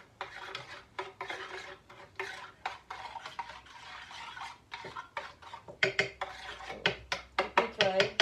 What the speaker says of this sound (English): Now let's mix them together.